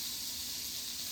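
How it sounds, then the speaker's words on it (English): Bacon sizzling in a pot, a continuous loud bright hiss with fine crackle, steady throughout and close, with no talk over it. "Put your bacon in there. You hear that? That sizzle."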